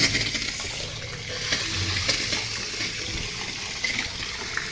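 Water rushes steadily through an opened valve on a bypassed pipe line, a close, continuous splashing flow with occasional small metallic clinks and no talk.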